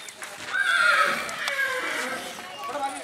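A Marwari horse foal, about three months old, whinnies in a loud, wavering neigh that rises and trails off, with a shorter call near the end; outdoor farm setting with faint background voices.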